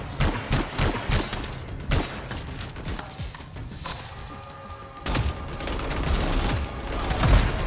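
Gunfire in the sci-fi action game Anthem, rapid bursts of shots and booms in clusters with mechanical clatter between them, loud and close, with no talk over it.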